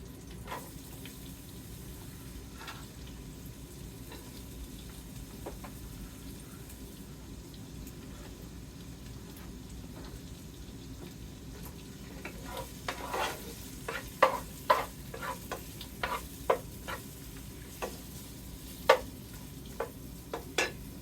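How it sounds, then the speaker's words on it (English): Onions sizzle in a pan for a sausage, spinach and tomato pasta, a low steady hiss with sharper clinks and stirring taps growing more frequent toward the end. "I'm going to go ahead and add the onions in here."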